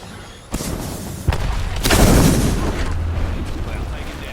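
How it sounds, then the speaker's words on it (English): A grenade explodes in the battle-royale video game Apex Legends, with sharp impacts followed by a heavy, rumbling blast that swells and lingers under continuous game noise. "Grenade coming in."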